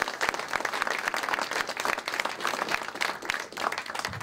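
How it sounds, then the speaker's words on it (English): An audience at a DC Lean Startup Circle meetup applauds presenters after their talk; steady, dense clapping from a room of people carries on for several seconds at moderate volume without speech. "Let's give these guys a round of applause."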